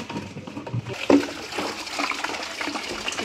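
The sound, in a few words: pouring water to wash an oil can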